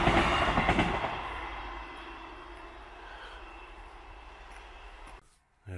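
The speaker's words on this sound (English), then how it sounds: "Another train." A train passes along a single-track line near a public footpath on a countryside walk around Hexham, its rumble loud at first and then fading steadily into the distance.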